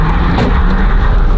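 A car engine runs loud and close with a steady, even drone as the vehicle pulls away, filling the whole moment with no voices.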